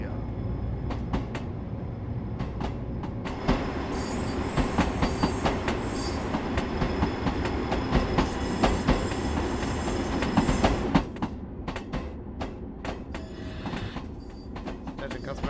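Long Island Rail Road train approaching a station in Train Sim World 4: steady rolling rumble with rhythmic wheel clicks over rail joints and brief squeals, building slightly then easing as it slows.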